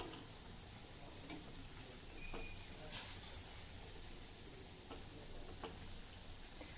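Red pumpkin vada fritters frying in medium-hot oil, a steady soft sizzle with occasional faint ticks and pops, close and fairly quiet.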